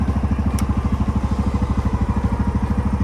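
A snow plow vehicle's engine runs at a steady idle after a Montana blizzard, a low, evenly pulsing mechanical chug heard close up with no talk, plus one brief sharp click early on.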